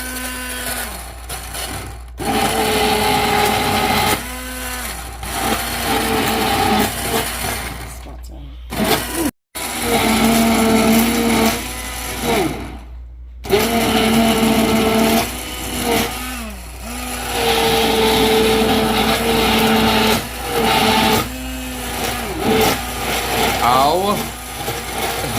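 A hand blender, or swizzle stick, whirs steadily as it purees creamed corn for chicken corn soup. The motor drone is sustained with brief pauses, and people talk over it throughout.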